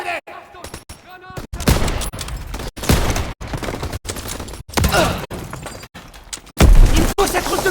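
Repeated bursts of loud, close machine gun fire in Call of Duty WW2, chopped into rapid clusters with brief pauses between them, while shouted voices talk over the shooting.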